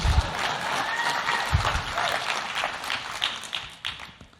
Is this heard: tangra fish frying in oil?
no